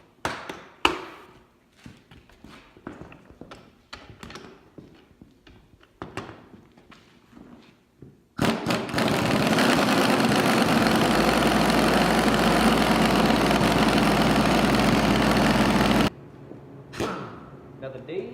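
A mechanic's creeper driven by an impact wrench at 300 foot-pounds fires up for its first test after some shuffling and clunks, then gives a loud, sustained pneumatic roar for about eight seconds before cutting off abruptly.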